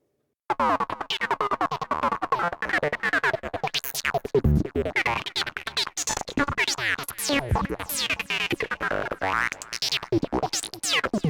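Busy, squelchy Behringer Neutron synth sound, its filter frequency-modulated by an LFO, sweeping rapidly and irregularly, giving a rubbery, chattering texture; steady and fairly quiet throughout, no voices.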